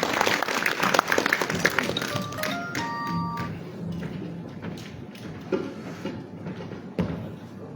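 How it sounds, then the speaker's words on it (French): A crowd at the opening ceremony of the Pulaaku international festival applauds an artist, the clapping loudest at first and then thinning out. Brief tonal notes and scattered thumps follow in a roomy, reverberant space. "Sous vos acclamations, bien nourries."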